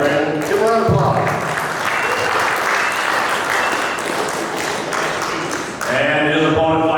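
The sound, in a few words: applause at a fight weigh-in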